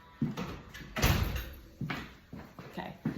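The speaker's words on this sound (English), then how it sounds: "I'm going to close the door." A door is pushed closed with a heavy thump and rattle, followed by several softer knocks and bumps from the door settling nearby.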